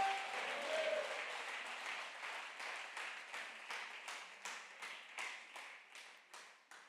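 A church congregation applauds during a sermon, a dense burst of clapping that settles into a steady rhythmic beat and gradually fades, with no talk over it.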